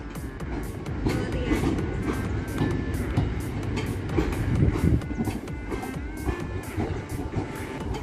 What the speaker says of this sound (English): Two freight trains in one day.